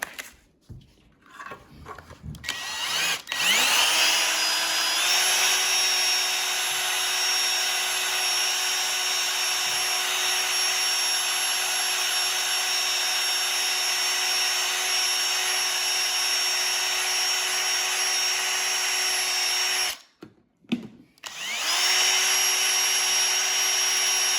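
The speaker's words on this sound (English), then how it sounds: "So, on the drill." A power drill polishing a Chevrolet C10 square-body truck gauge lens whines steadily at high speed for a long stretch, briefly stopping and spinning up again near the end, loud and close.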